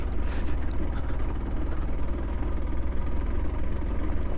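An off-road vehicle engine runs steadily near Chikmagalur, a constant low, rumbling drone with a buzzy vibration that holds loud and even throughout, no voices over it.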